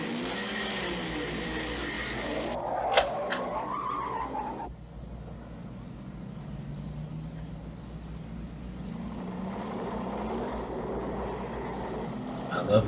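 Racing car engines rev and tires squeal in a film sequence, a loud engine roar with a skid at the start, then a steady rumble running under faint talk.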